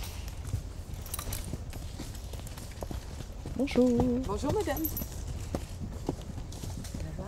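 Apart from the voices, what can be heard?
two horses with riders walking past, hooves clip-clopping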